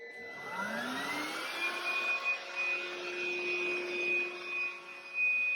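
A Beldray 2-in-1 cordless stick vacuum motor spins up with a rising whine, then runs steadily with a high-pitched whir that wavers slightly nearby.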